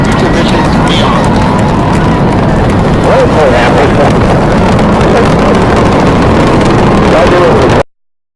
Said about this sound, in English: booster ignition, and liftoff of the Space Shuttle Discovery